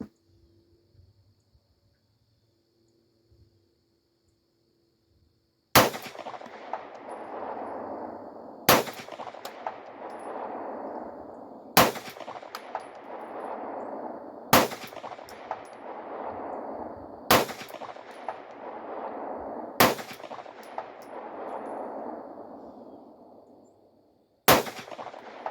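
Seven sharp pistol shots from a P80 Glock-style handgun at a steel target 200 yards away, spaced about three seconds apart, each a loud crack followed by a long ringing decay. No talking.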